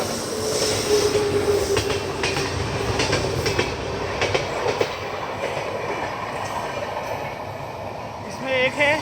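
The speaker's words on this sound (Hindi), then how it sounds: "ANVT मधुपुर हमसफ़र एक्सप्रेस हमारे आगे निकलती है।" An ANVT Madhupur Humsafar Express overtakes on the adjacent track, its continuous rumble and rhythmic clattering of wheels heard close by from inside a moving passenger train, with a brief squeal at the end.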